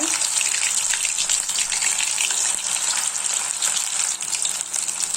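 Masala-coated snake gourd pieces fry in hot oil with a loud, continuous close-up sizzle and bubbling crackle that never lets up.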